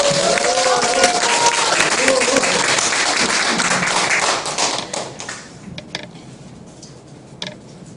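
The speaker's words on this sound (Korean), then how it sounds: "여러분 힘찬 박수로 맞이해 주시기 바랍니다" Lecture audience applauding to welcome the speaker at a Korean history talk, a loud, dense burst of clapping that holds steady and then thins out into scattered claps, with some voices under it.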